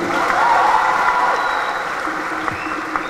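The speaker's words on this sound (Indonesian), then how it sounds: "Tepuk tangan lagi." Audience applause at a wayang puppet show, a dense steady wash of clapping from a crowd throughout, with faint voices and cheers mixed in.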